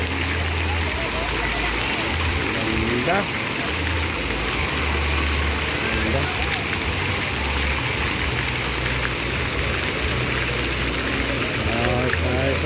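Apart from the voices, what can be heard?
swirling flowing water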